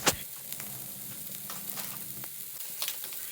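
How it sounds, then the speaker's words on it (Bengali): Frozen shish kebabs frying in a pan with a little salt, giving a steady close sizzle with occasional pops and stirring scrapes, with no talking. "তো এইটা আমরা কিছুক্ষণ ভেজে নিব।"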